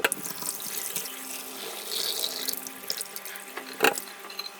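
Curdled milk poured into a damp cloth to strain homemade paneer makes a steady, close watery splash and trickle. It runs continuously, with a brief louder splash near the end.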